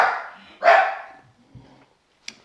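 Dogs bark nearby, two loud separate barks about half a second apart that ring out and fade. A faint thud and a short sharp click follow in an otherwise quiet room, with no talking.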